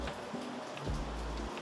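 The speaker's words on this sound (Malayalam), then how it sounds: "നമ്മളൊന്ന് മഴ കാണാൻ വന്നതാ." Steady rain falls outside a home, a continuous broadband patter heard close and fairly loud, with a low rumble running beneath it and no talking.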